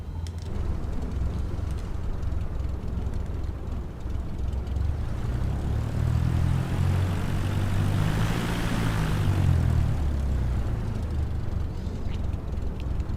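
A Cessna 172 propeller engine taxiing in a flight simulator game, with the steady engine drone holding throughout and a deeper, swelling hum rising near the middle.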